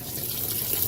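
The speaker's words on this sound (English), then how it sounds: "You got your water coming in there." Water rushes steadily into a Frigidaire stacked compact washer set to a warm/cold large whites load, a constant close hiss with no voices over it.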